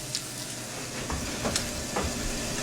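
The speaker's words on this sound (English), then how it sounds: "These are still sizzling." Fried cornmeal mush sizzles in hot grease, a soft continuous crackle with a few sharper pops rising over a low background, fairly quiet and close.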